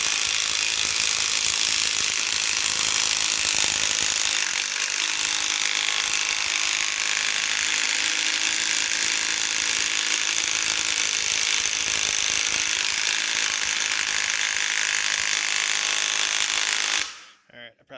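A 12-volt power ratchet works at transmission bolts with a loud, continuous buzzing rattle that runs for many seconds before cutting off abruptly.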